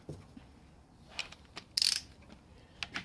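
A torque wrench tightens the cylinder bolts on a Honda CB750 at 6 foot-pounds, giving a few sharp, brief metallic clicks against a quiet workshop, with one louder snap near the middle.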